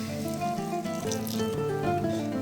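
Water runs from a tap in a steady, gentle stream, splashing softly into a pasta sauce container for a couple of seconds.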